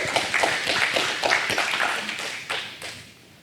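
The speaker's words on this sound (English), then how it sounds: "Let's give a round of applause." A crowd at a youth coaching talk breaks into scattered clapping, a run of sharp, uneven hand claps that thins out and fades toward the end.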